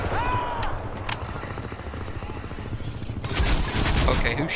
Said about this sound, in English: Okay, who's shooting me?